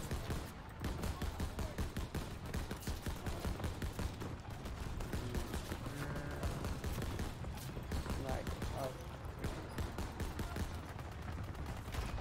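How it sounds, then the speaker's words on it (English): Sustained machine gun fire in Call of Duty WW2 during a Battle of the Bulge fight, rapid repeated shots rattling for several seconds at a steady pace, loud and continuous with voices mixed in. "Let's try to kill them with this machine gun."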